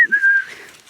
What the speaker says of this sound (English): I whistle, which helps him wee, but he seems a little bit distracted